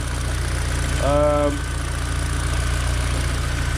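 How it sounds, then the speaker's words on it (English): A Mini Cooper R50 engine idles steadily after an R53 intake manifold install, a constant low drone close by, with a brief voice speaking over it. "make sure you can hear the engine's running right, which does sound fine"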